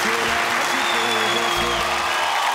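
An award show audience claps loudly and steadily for a few seconds, a dense and continuous burst of applause with no pauses.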